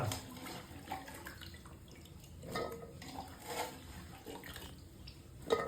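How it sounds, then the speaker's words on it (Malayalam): Chopped tapioca pieces being washed in water: sloshing and splashing in a vessel with dripping and light clinks against the pot, irregular bursts at close range, fairly quiet, no talking. "സൂപ്പറായി കഴുകിയിട്ട് വെച്ചുകൊണ്ടിരിക്കാം കേട്ടാ"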